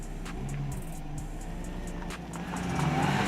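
Volkswagen Touareg crawling over a difficult off-road line with its front left wheel raised, a steady low engine drone with scattered clicks and knocks from the wheels, the engine rising in loudness toward the end.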